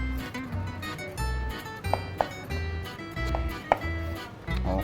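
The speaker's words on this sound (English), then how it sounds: "then prepare the bacon, cut very thick" A knife cuts bacon into thick pieces on a board, giving a series of dull, evenly spaced chopping thuds with a few sharper clicks, close and alone.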